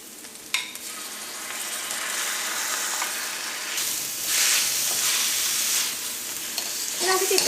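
Chicken pieces and softened onions fry in hot oil in a pan for chicken pasta. A steady, close sizzle and hiss keeps going, with a few clattering stirs at the start and end.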